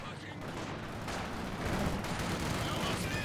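Anti-tank gun fire from a ZIS gun in the Company of Heroes 2 strategy game, mixed into a dense, continuous wash of battlefield gunfire and explosions, with no distinct single shot standing out.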